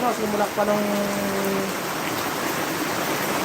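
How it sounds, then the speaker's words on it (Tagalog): Heavy rain pours steadily as a dense, constant hiss, with a short tonal hum at the start fading into the downpour. "Napakalakas ng pagulan dito sa amin."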